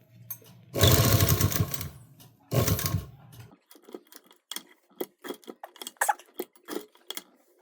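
A sewing machine stitches lining onto a readymade kurti neck in two loud, fast runs, then falls to a string of light ticks and clicks as the fabric is handled between stitches.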